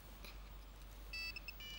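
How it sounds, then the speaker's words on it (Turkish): A telephone gives a short electronic ring, a few quick tonal pulses, fairly faint over a low steady background hum. "telefon çalıyor"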